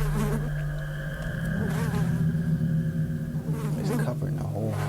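Insects such as flies or mosquitoes buzz in a frightening indoor scene, a sustained droning hum layered with shifting tones and bursts of other noise throughout.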